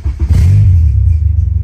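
Mercedes-Benz car engine cranking and firing up, then settling into a loud, close, deep rumbling idle with a throbbing low pulse.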